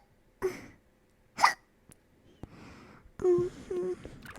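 Several sharp, close hiccups from one person come in separate bursts with short silent gaps, followed by breathy vocal sounds.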